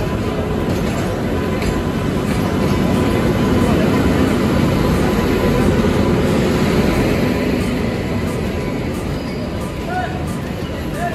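Train pulling in at a railway station platform in India, on a Ludhiana to Delhi route, a steady heavy rumble with broadband rail noise that swells slightly mid-way, with voices and station bustle underneath.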